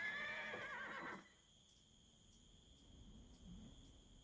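A horse whinnies loudly in the strategy game Age of Empires II, a bright shrill neigh lasting about a second, then faint game ambience with chirping insects and soft hoof clops.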